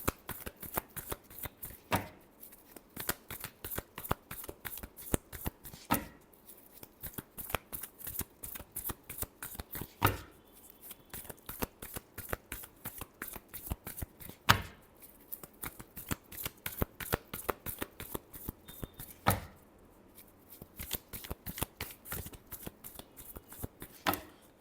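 Tarot cards being shuffled close up: long runs of rapid crisp riffling flutters, broken by short pauses and sharp taps as the deck is squared, repeating several times with no speech.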